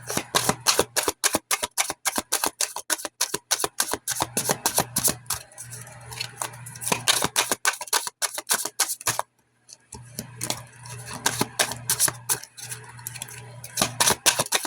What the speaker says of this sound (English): These cards are smaller, so they're kind of funny to handle.